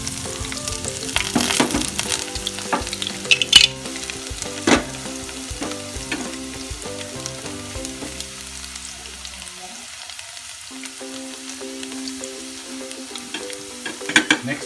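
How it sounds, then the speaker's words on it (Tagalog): Garlic frying in a pan for pork binagoongan with eggplant, a steady loud sizzle with occasional stirring scrapes and clinks, no voices. "ilagay natin yung ating bawang"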